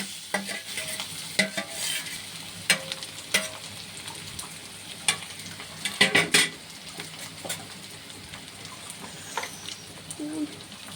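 Boiled potatoes, banana and chopped chilli fry in a pan while a utensil scrapes and knocks against the metal in sharp, irregular strikes over a soft sizzle, close by and otherwise quiet.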